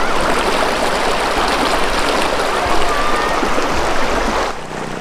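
Strong river current at Minalungao, Nueva Ecija, pours by in a dense, loud rushing roar that holds steady, then dips slightly near the end.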